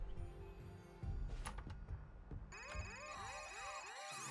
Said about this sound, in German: Okay, schnell, geh ans Telefon,